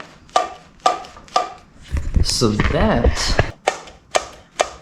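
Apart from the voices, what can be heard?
carburetor slide moving up and down, echoing in 1974 Yamaha Enduro air box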